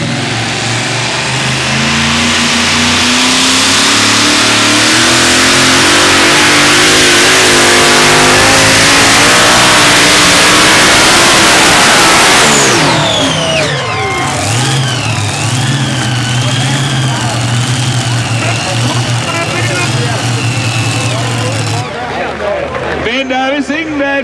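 The Double Screamin' 2.5 ton pulling tractor roars at full throttle at a tractor pull event in Herning, a loud sustained engine howl that later drops to a lower rumbling run as an announcer talks over it.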